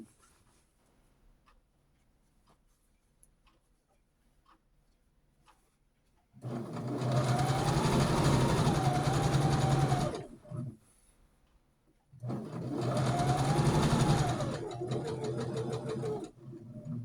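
Near-silent handling at first, then two strong bursts of close sewing machine stitching across a quilt panel, the machine slowing slightly where it passes over a thick cross seam.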